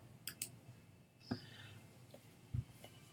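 A few faint, sharp mouse clicks at a computer while signing in, scattered quietly over a soft room background.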